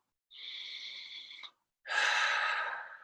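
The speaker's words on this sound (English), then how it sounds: "3 breaths in through the nose, out through the mouth" A person takes one slow breath in through the nose, then lets out a louder, longer breath through the mouth, both close and clear with a short silence between.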